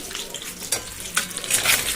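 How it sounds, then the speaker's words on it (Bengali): Peeled eggs fry in a pan for an egg curry, making a steady, fairly loud close sizzle broken by a few scraping stirs and brief clatters. "এই যে এখানে ডিম ভাজা করছি"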